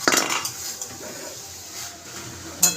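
A metal lid is lifted off a pan of simmering papaya curry, with a clattering knock at the start and another short clink near the end over a soft background hiss.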